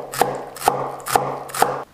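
A knife chops a bunch of washed Chinese chives finely on a board for a chive-box filling, four evenly spaced crisp strikes over a steady scraping rustle, close and clear with no talk.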